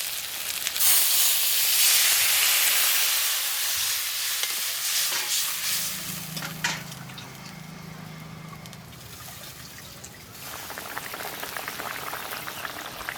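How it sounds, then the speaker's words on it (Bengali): Fish curry gravy with chilli powder and water bubbling in a pan, a soft steady boil and sizzle with brief stirring clatter partway through, no talk. "ঝোল খুব ভালোভাবে ফুটে গেছে"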